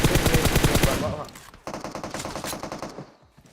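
Automatic gunfire in the battle game PUBG Mobile, a loud dense burst of rapid shots that fades, then a second quieter stream of rattling rounds that tapers off.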